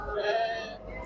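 Sheep and lambs bleat close by at a busy livestock market, a short, loud wavering call over low crowd murmur.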